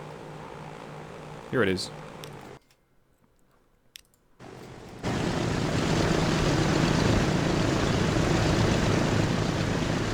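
Airplanes fly in the Transport Fever 2 game: after a brief spoken phrase and a short quiet gap, a broad, steady engine roar swells in and holds loud to the end.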